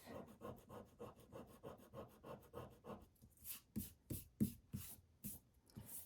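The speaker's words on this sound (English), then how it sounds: "I'm going to just use my eraser here and get that off" A sand eraser rubbing ink off paper during a card-making project: rapid, rhythmic back-and-forth scrubbing strokes, close and fairly quiet, with a brief pause before firmer, more spaced strokes.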